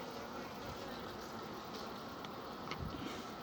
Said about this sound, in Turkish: Ve arı bu şurubu çekmeye devam ediyor.